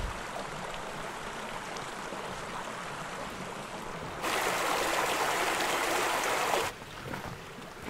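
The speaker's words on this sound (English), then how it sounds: "Water continues to seep through the ground as a result of snowmelt from the higher peaks, and this water collects in small streams" A small mountain stream fed by snowmelt from higher peaks rushes steadily nearby, its continuous gurgling wash swelling louder for a couple of seconds before easing back, with no talk.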